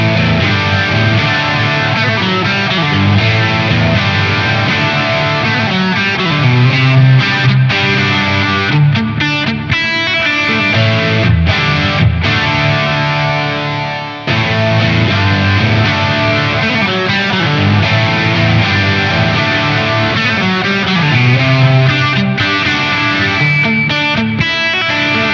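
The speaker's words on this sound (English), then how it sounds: "I'm gonna play some rock rhythm tones with a bit of a heavier gain sound." A Silver Sky SE electric guitar plays a continuous rock rhythm part through stacked overdrive pedals for heavy gain, loud, dense and sustained with a brief dip midway.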